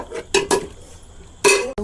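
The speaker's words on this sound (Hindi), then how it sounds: "देखिए प्याज भून रहे हैं" Onions frying in a pot over outdoor cooking for a mutton dish, heard as a few loud bursts of metal scraping and clanking from stirring, with quieter hiss between them and no talk.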